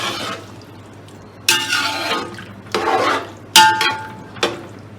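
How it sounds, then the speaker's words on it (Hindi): Soaked rice, soaked for an hour, is tipped into a cooking pot of fried black chickpeas for pulao, giving several separate wet pouring rushes and rattling splashes in a quiet kitchen. "चावल ऐड करने हैं इसके अंदर।"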